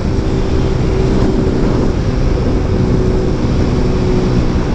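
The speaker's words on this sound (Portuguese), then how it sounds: "só dá pra escutar o barulho da moto dele" AS 150 motorcycle engine with no filter, ridden on an uphill road, droning loudly and steadily under wind noise for the whole stretch, with no voices.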